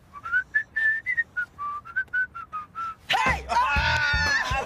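A person whistles a short lilting tune, a string of clear bright notes in quick phrases, close and alone, then a burst of lively overlapping voices and exclamations takes over.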